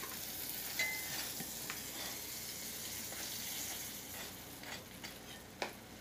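A pancake frying in a pan, giving a low, steady sizzle throughout with a couple of faint clicks and a sharp tap near the end, and no talking.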